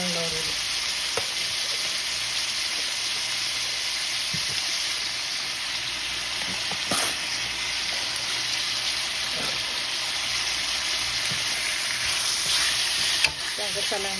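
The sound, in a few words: chicken adobo with bay leaves sizzling while being seared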